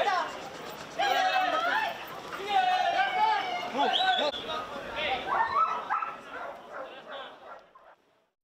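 At a dog show competition, several dogs bark, yip and whimper in excited bursts, nearby and fairly loud, while a voice talks over them throughout.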